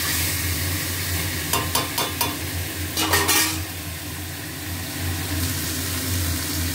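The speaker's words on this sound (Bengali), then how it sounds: "ভালো করে চিকেন কষাবো।" Chicken stir-fries in a pan with a steady, loud sizzle, broken midway by bursts of rapid spatula scraping and clatter against the pan.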